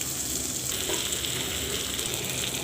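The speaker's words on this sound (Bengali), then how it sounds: "এবার এর মধ্যে দিয়ে দেব পেঁয়াজ কুচি।" Chopped onion fries in hot oil in a kadai, a loud, dense, continuous sizzle heard up close with no voice over it.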